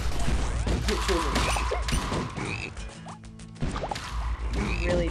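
Frogs croak and squeak as they are thrown around in the video game Battleblock Theater, short cartoonish calls over thuds, crashes and game music, with players talking throughout.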